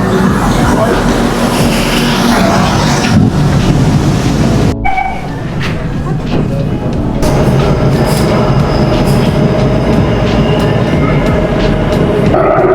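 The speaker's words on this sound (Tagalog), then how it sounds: "Grabe yung bilis ng tren nila dito guys." A Singapore MRT train on the Downtown Line runs at speed with a loud, steady rumble and hiss, shifting in tone midway, while people talk faintly beneath the noise.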